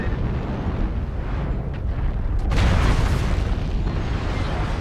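Artillery strike explosions in MechWarrior Online rumble as a continuous low, heavy roar that swells sharply around the middle and stays loud to the end, with no talk over it.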